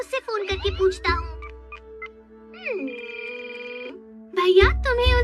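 Electronic phone dialing tones and a ringing signal, with sliding beeps and a sustained tone, between bursts of Hindi-dubbed Doraemon cartoon voices talking.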